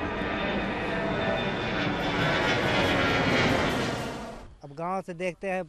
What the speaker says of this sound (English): this is the closest you can get as the turbojets take off.